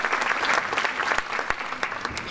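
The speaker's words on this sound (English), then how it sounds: "Give yourselves a round of applause for all that support, all that great stuff for the music department." Parents and audience at a middle school 7th grade winter concert clap together, a full burst of applause with a few sharp individual claps standing out.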